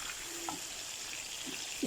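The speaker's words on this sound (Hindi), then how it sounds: "अब इनको हम थोड़ा सा इस तरह से चारों साइड से फ्राई करेंगे।" Gola kebabs frying in a pan, heard as a soft, steady sizzle with a few light stirring knocks, faint and close.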